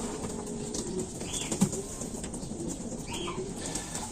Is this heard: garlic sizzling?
no